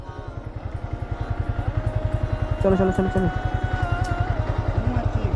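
A motorcycle being ridden, its engine thumping in a fast, even pulsing rhythm close by, with a person calling out briefly over the running engine.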